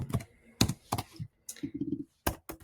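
A message is typed on a computer keyboard, with close, crisp keystroke clicks arriving in short irregular bursts separated by brief pauses, and no voices.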